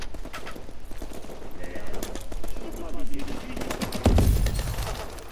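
Rapid automatic gunfire in Call of Duty: Advanced Warfare, with bursts of shots rattling in quick succession and a heavy, louder volley near the end, with a French-speaking player talking over the action.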